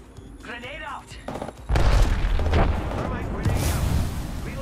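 Video game combat with gunfire and a grenade explosion: a quiet, chattering start gives way to a sudden heavy boom and then sustained, loud rattling gunfire, with a voice speaking over it.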